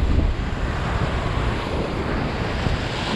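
Strong wind buffets the microphone at an ocean shore at Umkomaas, a dense, low rushing roar with surf noise beneath, constant and close throughout the few seconds.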